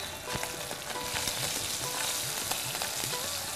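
Ground green pea paste fries in a hot kadai, giving a steady close sizzle with soft stirring scrapes and occasional small pops, and no voices.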